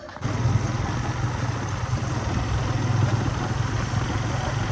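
Motorcycle engine idling steadily after starting, a low, even throbbing rumble held at close range for several seconds with no talking over it.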